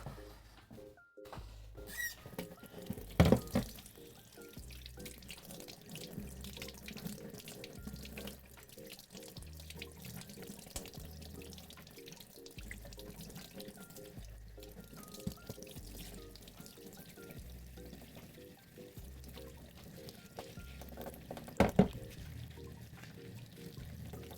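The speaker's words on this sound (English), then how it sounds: "I'm gonna go wash myself up here." Tap water runs steadily into a kitchen sink while hands are washed, a quiet continuous flow with occasional louder splashes and clatters from the basin.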